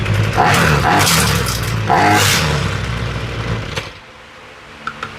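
A Ryobi weedeater running on half choke, its idle being adjusted, drones loud and close with a rough, uneven two-stroke engine note for about four seconds, then settles to a quieter, lower running hum.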